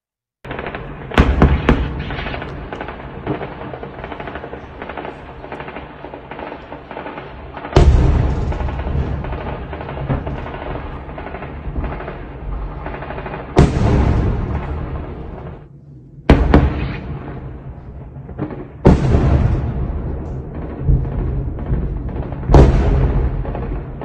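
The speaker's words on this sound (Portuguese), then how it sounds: "bastante tiro e explosão ali" Heavy gunfire and explosions during shelling in the war in Ukraine: sharp loud blasts strike at intervals, each followed by sustained rumbling and crackling shots in between.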